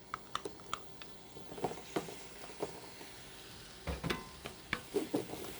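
Chopped onions sweat gently in a pan for breakfast sausage, giving a low, quiet sizzle with scattered soft stirring taps and pops, close by and steady.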